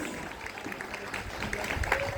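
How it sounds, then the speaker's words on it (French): An outdoor festival audience claps for nine alphorn musicians taking their places, a moderate, uneven patter of applause with crowd murmur and voices underneath. "on peut déjà peut-être applaudir les 9 musiciens qui viennent de s'installer"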